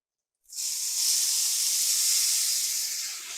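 Ground beef hits hot olive oil in a large Dutch oven over medium-high heat, letting out a sudden loud, steady sizzle that holds strong and fades only slightly, with no talking.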